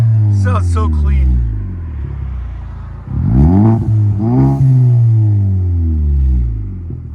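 A 2020 Ford Fusion 1.5L Ecoboost with an aftermarket exhaust revs up, rising and falling in several loud pulls, with a deep exhaust note between revs.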